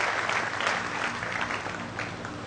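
An audience at a temple festival felicitation for a member of parliament claps in a dense, sustained burst of applause that fills the space, heard on its own without speech.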